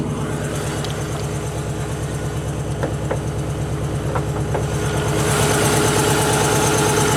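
A 1991 Subaru Legacy engine idles roughly on three cylinders, a loud, uneven, lumpy pulsing with a stumbling beat, a few small knocks mixed in, and the note rising slightly toward the end; no one speaks.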